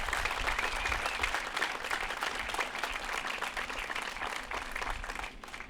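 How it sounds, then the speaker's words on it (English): An audience at an outdoor ribbon-cutting ceremony for a school district maintenance yard gives steady, sustained applause. The clapping blends into a dense, even wash with faint crowd noise and fades slightly at the end. "please just give him a round of applause."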